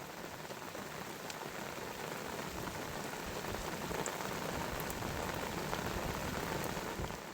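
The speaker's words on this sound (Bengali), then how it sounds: "প্রচুর বৃষ্টি হচ্ছে।" Heavy rain falls steadily on a riverside during crab fishing, a dense, even patter of drops that holds at a constant moderate level throughout with no voices.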